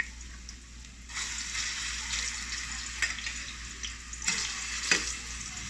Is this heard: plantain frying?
yes